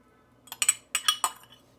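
A salad of chickpeas, wheat berries, apple and dressing being tossed, heard as a few quick clinks and scrapes of utensils against a bowl in two short bursts, with no talking.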